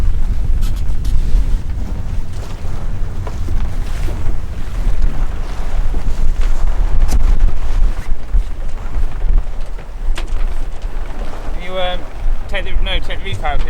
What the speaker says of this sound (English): and then we're going to pull the sail up.